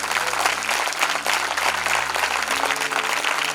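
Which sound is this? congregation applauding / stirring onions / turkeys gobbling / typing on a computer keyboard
congregation applauding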